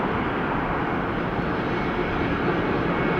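Aircraft engine noise at Atlanta Hartsfield airport, a steady, broad roar of large airplanes heard from a distance, continuous and even throughout.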